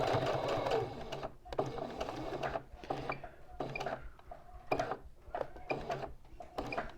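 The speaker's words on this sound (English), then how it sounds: "All I have to do is sew to that line, which is what I will do." A sewing machine stitches quilt binding in short runs of fast, even mechanical whirring and needle clatter, stopping and restarting repeatedly at close range.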